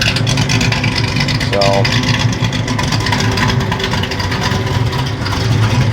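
A Pontiac car engine idles with a loud, steady, close rumble that runs unbroken for several seconds, while someone speaks briefly over it.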